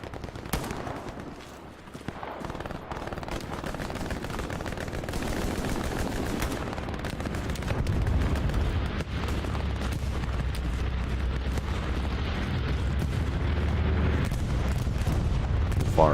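Artillery fire and explosions rumble through a Hell Let Loose battlefield, with repeated booms and crackling bursts of gunfire layered over a continuous heavy din that grows louder partway through.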